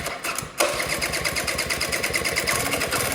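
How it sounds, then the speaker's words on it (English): A motorcycle engine started with the starter button catches and runs, giving a steady, close, loud rapid putter of firing pulses with a sharp onset partway in and continuing to the end. "You don't need to touch the key. Just push this in?"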